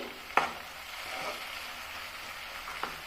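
Tomato frying in a pan for aloo curry, a soft steady sizzle with a couple of sharp stirring clinks of a spoon against the pan, close but fairly quiet, no voices.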